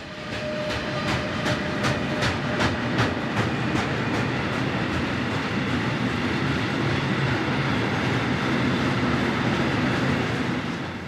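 Freight train hauled by locomotive 186132 passes on the Hannover–Magdeburg main line in Germany, a loud continuous rolling roar with rapid rhythmic clickety-clack of wheels over rail joints early on, close by.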